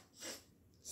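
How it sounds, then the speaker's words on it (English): A single sharp sneeze bursts out close and loud in the middle of a brief quiet moment, followed by a soft breath. "sneezing,"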